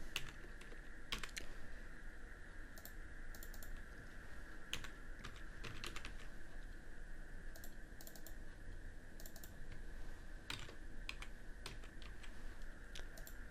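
Continuous typing on a computer keyboard, a steady stream of quick light key clicks with occasional sharper taps, close and fairly quiet over a faint steady hum.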